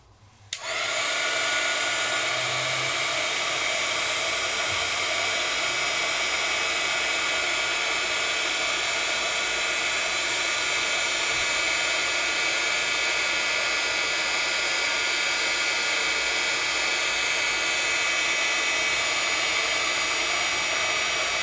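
A heat tool switches on and blows a loud, steady hiss and whir close by while melting white embossing powder, continuing unbroken after a brief quiet start.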